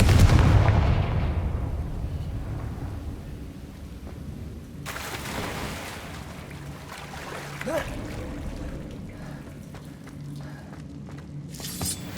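A Confringo spell blast in the video game Hogwarts Legacy: a loud booming explosion at the start that decays into a long rumbling tail, followed by quieter game effects and scattered small impacts.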